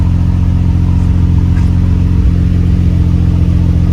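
A Nissan R34 GT-R engine idling with its stock muffler exhaust, a loud, steady, deep rumble with a constant low throb and no changes in revs.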